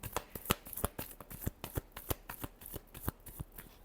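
Tarot cards shuffled by hand during an Aries love reading, a quick run of crisp riffling snaps and slaps spaced evenly, close and clear with no talking.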